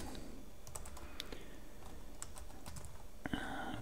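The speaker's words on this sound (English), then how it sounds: "Try to type it correctly" Fingers tap out a command on a computer keyboard, quiet irregular clicks and keystrokes over a low room hum, ending with a short burst of louder, muffled sound.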